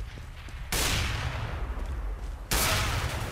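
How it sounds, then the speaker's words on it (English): Gunfire in the video game Counter-Strike: Global Offensive, with two loud, sharp broadband bursts a couple of seconds apart, each followed by a sustained rumbling tail. "He shot me through the wall!"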